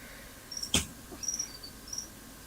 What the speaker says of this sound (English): I hear your crickets.